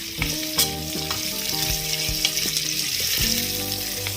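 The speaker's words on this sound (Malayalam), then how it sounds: "ഇനി ഇതിലേക്ക് സവാള, ഒരു വലിയ സവാളയാണ്, അല്ലെങ്കിൽ 1 കപ്പ് സവാള നമുക്ക് ചേർത്ത് ഇളക്കാം." Sliced onion and green chillies sizzle steadily in a hot pan as a spoon stirs them, with frequent scraping knocks over continuous close frying, and no one speaks.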